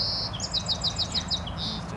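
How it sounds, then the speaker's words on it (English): A sparrow sings a run of quick, bright repeated chirps at a steady rhythm over a low background rumble, fairly close and clear. "This little sparrow, you can tell their song."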